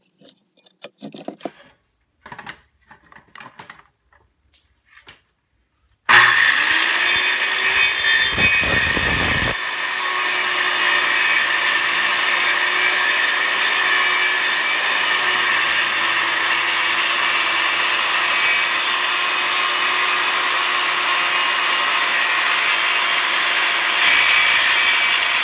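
A restored Skilsaw circular saw starts abruptly after a few quiet knocks and runs loud and continuous for about twenty seconds, its high whine carrying a brief rougher stretch early on as it cuts through wood.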